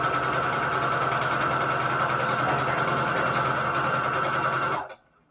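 Sewing machine stitching fabric scraps down onto a Christmas junk journal cover, a steady continuous whirring hum at close range that runs alone for nearly five seconds, then stops abruptly.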